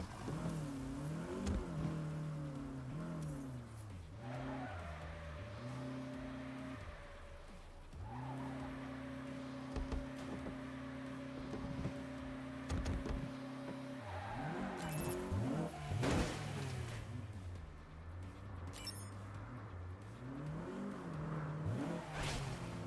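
A car engine in Saints Row (2022) revs and accelerates repeatedly, with rising and falling engine tones, held steady stretches and occasional tire squeals and whooshes, loud and close.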